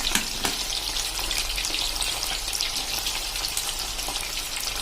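Green corn kernels frying in oil over a medium flame, a dense, steady crackling hiss that stays loud and even throughout, with a few sharper pops near the start and no talking.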